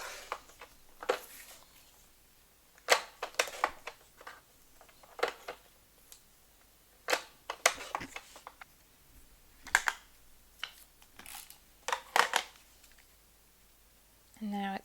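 Scissors snip polka dot paper in short bursts of crisp, close cutting sounds separated by pauses, while a person talks in between.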